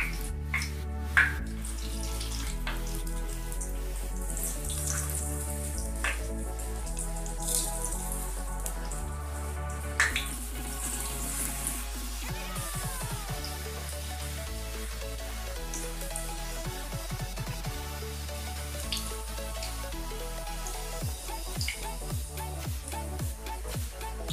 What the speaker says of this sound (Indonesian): Setelah pisang dibelah dua, lanjut kita goreng.